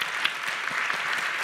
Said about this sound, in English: let's clap it up for these candidates